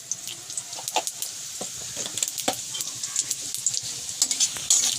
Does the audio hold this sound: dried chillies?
yes